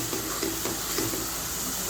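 Steady sizzling of macaroni pasta with tomato sauce in a hot pan, with soft scraping and stirring strokes throughout, close and continuous.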